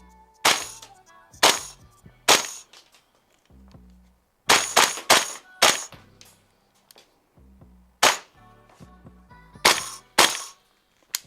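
A CYMA CGS gas blowback airsoft rifle fires in sharp, loud cracks, mostly in quick pairs and triplets separated by short pauses, each shot followed by a brief metallic clatter of the cycling bolt.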